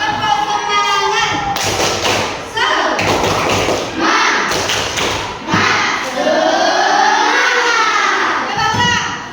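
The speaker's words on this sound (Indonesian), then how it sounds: "Tepuk semangat." Indonesian schoolchildren in a classroom perform a rhythmic spirit clap, loud patterned claps and thumps in bursts with children's voices chanting along throughout.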